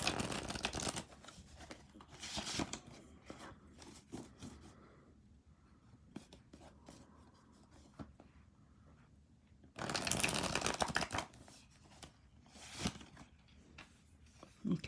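Tarot cards are shuffled and drawn by hand at close range, with soft riffling and sliding bursts at the start and again near the end, quieter rustles and pauses between them, and a faint voice now and then.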